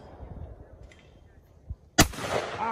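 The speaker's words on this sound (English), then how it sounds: "Shot your gun right there." A single sharp shotgun blast during outdoor skeet shooting, loud and close, with a short lingering echo afterward and faint sounds of people nearby.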